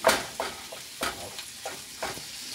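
Microwave-warmed cooked rice is stir-fried in a wok, with about five sharp scraping, tossing strokes of the spatula over a soft sizzle, close and fairly quiet.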